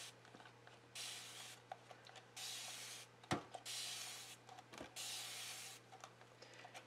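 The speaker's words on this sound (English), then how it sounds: "And I'm gonna spray my palette." Water from a spray bottle spritzes onto a watercolor palette in about four short, quiet hissing bursts, with a couple of faint taps in between.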